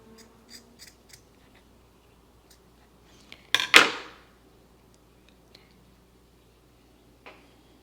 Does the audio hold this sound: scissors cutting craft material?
yes